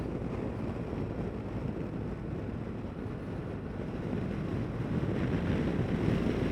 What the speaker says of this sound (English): let me just put the screen down and see how different the wind is